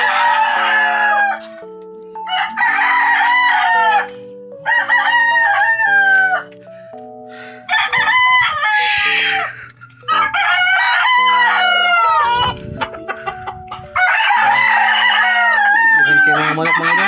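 Several roosters crow loudly in repeated bursts, with hens clucking between calls and a steady low hum underneath, along a walking route in Quiot.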